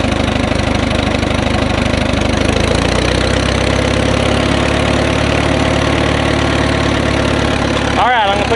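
A 1938 J.I. Case CC tractor engine runs steadily with throttle applied in first gear, a dense continuous mechanical drone that shifts in pitch partway through, with a person speaking over it.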